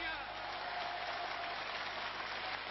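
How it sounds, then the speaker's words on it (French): Large assembly applauding the proclamation of the State of Palestine, a distant, muffled and continuous roar of clapping that holds steady at low volume. "Tonnerre d'applaudissements"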